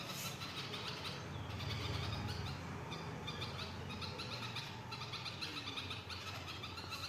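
A mother bird calls to her chicks nesting inside a house, sending out repeated high chirps and squawks over a steady low background rumble.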